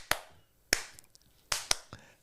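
Hands clap along to a song in sharp, isolated strikes, two pairs of quick claps spaced across a quiet background, close and crisp with no talking.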